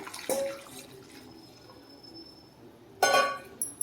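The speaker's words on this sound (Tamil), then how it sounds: "திரும்பவும் ஸ்டவ்வில் கடையை வச்சுட்டு நம்ம ஃபில்டர் பண்ணி வச்சுருக்க வெள்ளை தண்ணி ஆட் பண்ணிக்கலாம்" Filtered water poured from a vessel into a kadai pan on a stove while making red poha laddu, with two short splashy bursts, one at the start and one near the end, separated by quiet.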